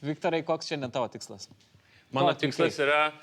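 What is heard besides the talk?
None of the usual background noises is heard.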